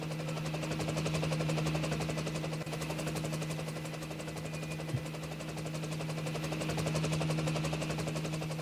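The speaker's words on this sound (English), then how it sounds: "Another helicopter." A helicopter flies over New York City, its rotor producing a steady rapid throbbing chop with a low engine drone, loud and continuous throughout with no talking.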